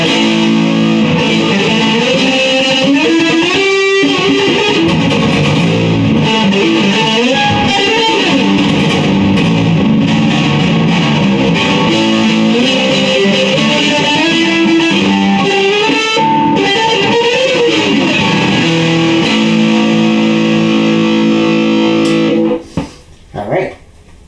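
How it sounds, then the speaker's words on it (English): Baritone guitar played through distortion effects, a thick, dense, continuous run of riffs and sustained notes, loud and close, that cuts off abruptly near the end with a few brief sputters. "This is the baritone guitar."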